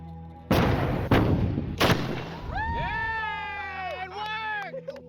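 A duct tape cannon fires an 18.5-pound cannonball, producing a heavy outdoor boom followed by a couple of further thumps, then excited voices shouting and cheering.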